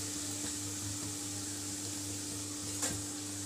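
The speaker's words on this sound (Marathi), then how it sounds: "पॉपकॉर्न खूप छान तळल्या जात आहे" Popcorn frying in hot oil in a kadhai for a bhadang snack, a steady soft sizzle with a faint hum beneath it and one small clatter near the end.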